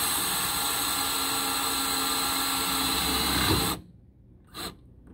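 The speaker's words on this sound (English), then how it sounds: "these are self-tapping screws, and we'll see how good they self-tap." A power drill driving self-tapping screws into the metal of a pickup truck bed while fitting a tailgate ladder, a sustained loud whine for several seconds that stops, followed by a brief short burst.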